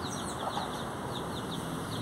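Backyard hens raised at home clucking steadily, with bird chirps and a continuous farmyard hiss behind them, no speech.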